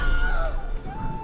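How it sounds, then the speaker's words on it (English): A short, loud Wilhelm scream from the Ori and the Blind Forest video game, a single wavering shriek lasting about a second over faint background noise. "I just lost my phone, but the Wilhelm scream is real!"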